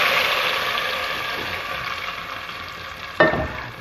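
A hot tadka tempering sizzles and crackles steadily as it is stirred into Lahori-style urad (mash) daal, ending with a sudden sharp hiss.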